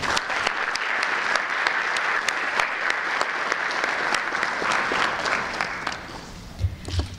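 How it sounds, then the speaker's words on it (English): Audience applause for National Honor Society inductees at a high school induction ceremony, a steady wash of many hands clapping with sharp individual claps standing out, continuing evenly for several seconds before tapering off near the end. "Please give yourself a round of applause."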